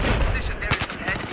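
Gunfire in Battlefield 4 rattles in dense bursts with a couple of sharper shots, loud and close, filling the whole moment with noisy battle din.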